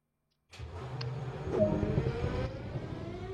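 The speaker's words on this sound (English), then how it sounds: "With the engine now running" A diesel locomotive engine settles into a steady running rumble right after start-up, with a low continuous drone and a brief clank near the start, heard alone at moderate level.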